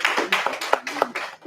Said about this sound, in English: Clap should come.